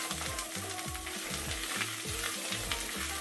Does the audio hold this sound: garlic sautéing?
yes